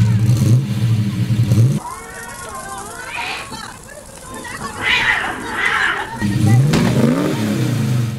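Cars rev and accelerate in spliced clips of ugly cars driven badly, engines rising and falling in pitch, with children's voices and chatter audible between the bursts of revving.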